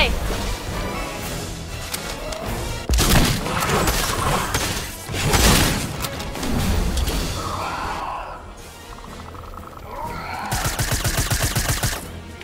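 Dense bursts of Fortnite gunfire crack through loud game audio, with repeated rapid shots in several clusters and a sharp impact near the start, heard alongside excited players talking.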